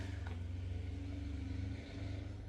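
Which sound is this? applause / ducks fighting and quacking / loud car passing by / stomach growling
loud car passing by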